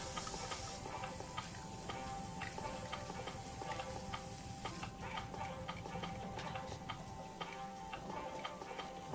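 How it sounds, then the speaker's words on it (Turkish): Meat being stirred in a pan for Turkish kavurma, a steady close clatter of quick regular scrapes and taps over continuous sizzling, with no talk. "Etimizi tekrar güzelce karıştırıyoruz"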